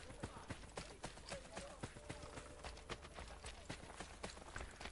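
Rapid, even hoofbeats of a horse galloping in Assassin's Creed Brotherhood, a steady run of sharp clip-clop strikes across the whole stretch, moderately close, with a voice talking over it.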